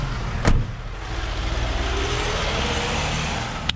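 A car on a road in Bosnia gives a steady rushing road noise, moderately loud, broken by a couple of sharp clicks, with no one talking.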